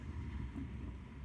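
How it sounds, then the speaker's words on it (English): Steady low rumble of a storm outside, wind roaring dully and continuously at a moderate distance with no distinct gusts or voices. "can you hear the storm? That's crazy."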